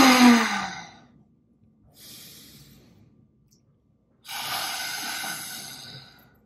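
A person performs lion's breath yoga breathwork, with a loud, forceful open-mouth exhale, a softer breath, then another long, roaring exhale, close to the microphone.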